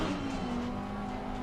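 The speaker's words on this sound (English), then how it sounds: "listen to that buttery smooth V10. They nailed this engine sound" An Audi GT3 car's V10 engine in the racing game Assetto Corsa Competizione holds a smooth, steady drone at moderate level for a brief moment, with no talking over it.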